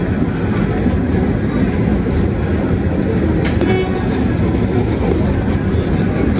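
The Darjeeling toy train runs near Kurseong, a loud, steady rumble and rail clatter filling the whole stretch with no voices.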